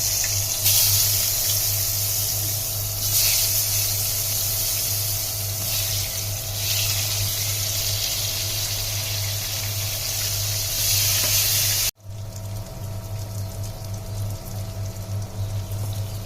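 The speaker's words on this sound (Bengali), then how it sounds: "এখন পটলগুলোকে ভেজে নিচ্ছি।" Salted, turmeric-coated pointed gourd (potol) slices fry in a pan with a loud, continuous close-up sizzle like spraying water, dropping abruptly and then carrying on more quietly.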